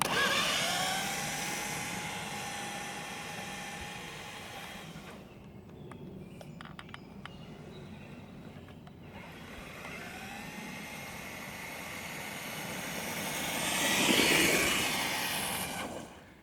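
An Austar AX A6 6x6 RC truck makes a speed run, its electric motor giving a steady high whine that drops away briefly mid-run and then swells louder as it passes close, with no talking.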